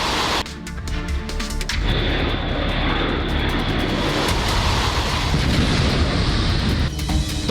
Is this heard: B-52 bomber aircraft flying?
yes